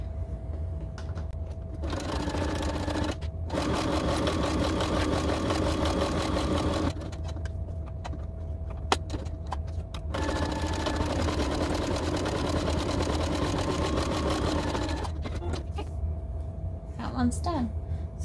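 Sewing machine stitching a tote bag strap in two long runs of steady whirring and motor hum, close up, separated by short pauses, with a brief voice near the end.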